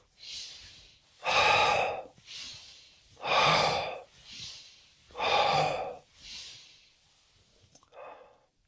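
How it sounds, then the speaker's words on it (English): Slow pranayama breathing through the nose, with long, loud, close breaths alternating with softer ones in an even rhythm, about four cycles, and no talking. "You breathe in through the nose, out through the nose."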